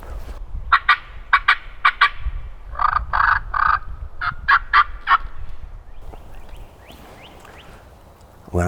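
A wild turkey gobbler in Mississippi at midday, gobbling loudly and close in a run of repeated rattling calls, then going quiet except for faint rustling.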